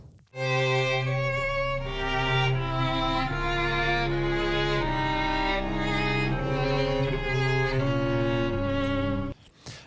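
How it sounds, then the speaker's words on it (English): A looped three-bar string ensemble recording plays slow, overlapping chords that shift every bar or so, full and steady, ending abruptly after nearly ten seconds. "a 3-bar long loop of some strings"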